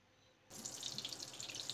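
Water pours from a tap into a cooking pan with a sudden onset, a steady splashing rush that continues to the end, close and alone with no talk.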